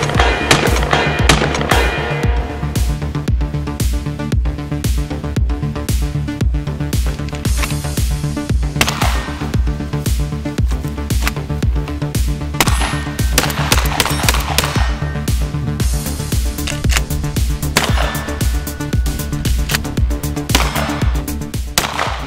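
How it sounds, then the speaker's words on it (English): A semi-automatic shotgun fires continuously through a long burn-down of 500 rounds, mixing birdshot, mini shells, 3-inch magnums and slugs. The sharp reports come in a steady, rapid rhythm, close and loud throughout, with no talking. "500 round shotgun burn down commence."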